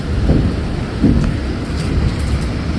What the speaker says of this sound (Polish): Tropikalna ulewa.